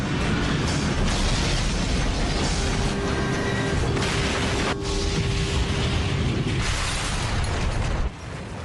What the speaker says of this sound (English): At 9:16 and 15 seconds, Flight 587 slams into the ground